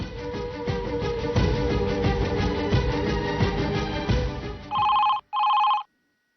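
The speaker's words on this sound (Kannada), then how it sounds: "ಶೋಭಾಗೆ ಫೋನ್ ಮಾಡ್ತೀನಿ." A telephone rings as a call is being placed: a sustained electronic ringing tone with a busy, pulsing texture, then two short, loud, clean ring bursts before it cuts to silence; close and clear, with no talking.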